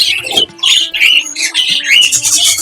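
A young budgerigar squawks harshly while being held in the hand, giving a close, loud run of repeated squawks with only brief gaps and no talking.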